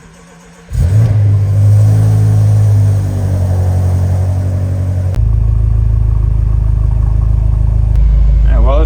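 BMW F10 M5 engine starting and then idling loudly while warming up, a steady deep rumble with slight shifts in pitch and no talk.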